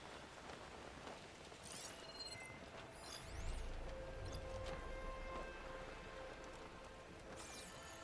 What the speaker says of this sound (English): Flying through rain.